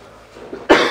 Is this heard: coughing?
yes